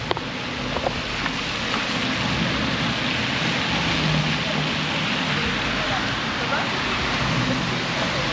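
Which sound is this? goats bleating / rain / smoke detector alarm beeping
rain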